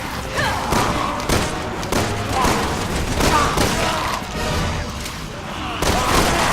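Rapid, loud gunfire from Resident Evil 6 in a zombie-filled city, repeated shots and heavy thumps in a dense barrage, with a voice talking over the action.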